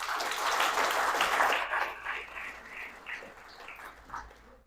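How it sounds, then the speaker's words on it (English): A round of applause from a seminar audience at a course session on blast design, fairly soft and brief, strongest at the start and fading into scattered, dwindling claps. "Let's give him a round of applause, please."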